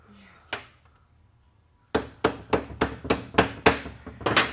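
Repeated hammer taps on a part being seated into a TH400 automatic transmission, about eight sharp metallic strikes in a steady rhythm after an isolated single tap, close and fairly loud.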